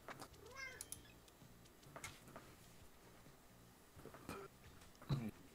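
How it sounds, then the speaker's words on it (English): A cat meows faintly in the background several times, short scattered calls against a quiet room with soft ticks and clicks, with gameplay going on. "There's a cat in the background."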